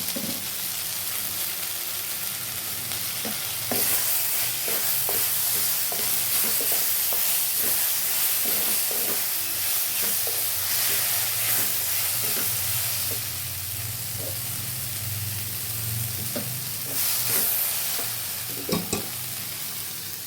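Brinjal and pigeon peas fry in a pan for a vankaya curry, giving a steady sizzle with repeated scraping clatters from stirring that come and go throughout, with no talk over them.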